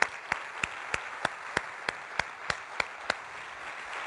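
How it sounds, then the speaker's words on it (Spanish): An audience applauds a guest on a talk show with rhythmic clapping in unison, crisp evenly spaced claps about three per second, clear against a quiet background. "Un aplauso muy fuerte a Toñejo, Antonio Rodríguez, alias Toñejo"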